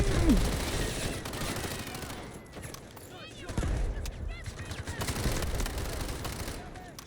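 SMG gunfire in Delta Force rattles in rapid bursts across the clip, some close and loud and some more distant, mixed with other game noise and occasional clattering.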